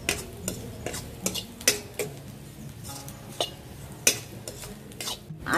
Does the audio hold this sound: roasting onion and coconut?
yes